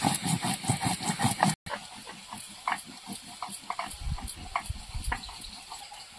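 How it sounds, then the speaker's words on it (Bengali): A pot of jhol made with small chara pona fish boils on the stove, giving a continuous uneven bubbling and gurgling with soft pops that grows denser toward the end. "ঝোলটা ফুটে উঠেছে"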